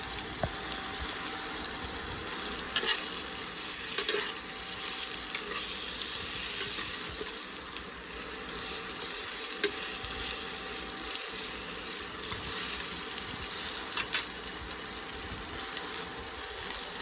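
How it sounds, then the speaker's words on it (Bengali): Pointed gourd pieces fry gently over low heat in a pan on an induction cooktop, giving a soft, even, continuous sizzle at low volume with no voices. "দেখো পটলগুলোকে হালকা করে হালকা আঁচে ভেজে নিচ্ছি।"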